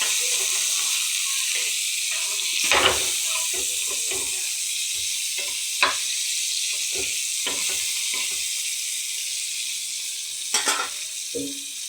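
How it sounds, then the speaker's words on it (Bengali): Onions being stirred and fried in ghee until reddish, a loud constant sizzle broken by repeated spatula scrapes and knocks against the pan. "পেঁয়াজটা একটু লাল লাল করে ভাজা হবে।"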